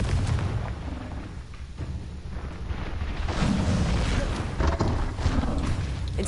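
Confringo blasting spell cast in Hogwarts Legacy, a dense rumbling burst of explosive noise that swells and keeps booming for several seconds at close range.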